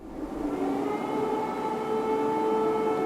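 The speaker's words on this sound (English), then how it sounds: "Thousands of residents took shelter underground as sirens blared through Kyiv overnight." Air raid sirens wail across Kyiv overnight. A loud, sustained civil defense tone holds steady and carries over the city, with no voices.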